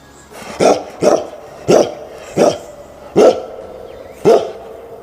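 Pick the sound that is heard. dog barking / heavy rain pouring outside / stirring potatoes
dog barking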